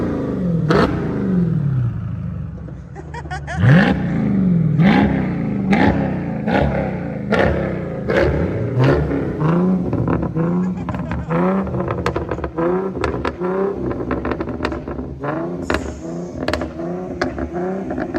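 Infiniti G37 engine revving hard while the car slides, a loud sustained roar with repeated sharp throttle blips and pops in quick rhythm, close and continuous throughout.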